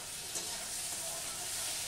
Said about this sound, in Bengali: টমেটোটা দেবো আলুর সাথে ভেজে নেবো একসাথে।